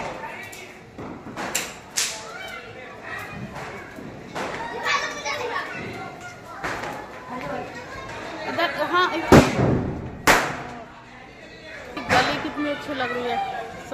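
Diwali firecrackers burst in a few sharp, loud cracks scattered through the scene, heard beneath the constant chatter and shouts of children playing nearby.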